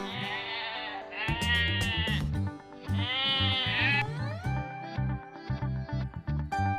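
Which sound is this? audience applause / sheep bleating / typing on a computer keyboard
sheep bleating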